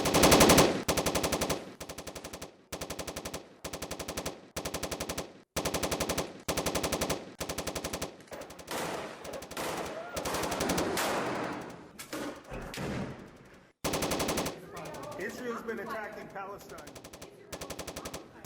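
Machine gun fire from a Hamas attack in northern Gaza rattles in long, loud, rapid bursts separated by brief gaps. Heavy automatic fire dominates, with voices faintly audible between volleys.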